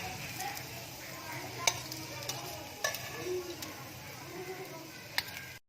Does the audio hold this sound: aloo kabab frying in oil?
yes